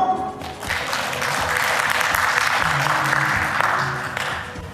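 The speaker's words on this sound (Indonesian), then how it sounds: "Tepuk tangan dong." An audience at the national meeting of an Indonesian big-motorbike club claps steadily for several seconds, full and fairly close, with some low background sounds underneath.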